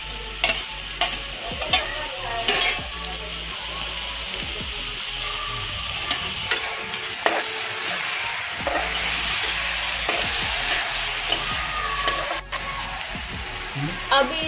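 Garlic, ginger, green chili and tomato sizzle and fry in a pan for an egg dish, with steady close-up hissing broken by frequent scraping stir strokes throughout.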